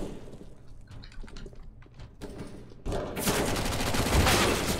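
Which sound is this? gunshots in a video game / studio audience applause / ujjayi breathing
gunshots in a video game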